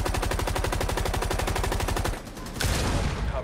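Fully automatic gunfire from Rainbow Six Siege hammers out in a fast, loud, even stream for about two seconds, then stops, followed by a louder crashing burst.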